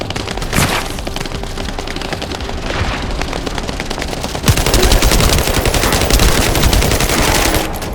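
An assault turret fires in The First Descendant on PS5 at the Agna Desert mining site, with dense, continuous rapid automatic gunfire. It grows louder and fuller after a sharp burst midway, a loud, close barrage with no speech.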